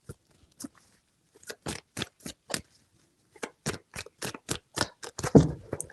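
A tarot deck shuffled by hand in a run of quick, crisp card bursts, about a dozen sharp riffles close to the mic, with short pauses between them and no voices.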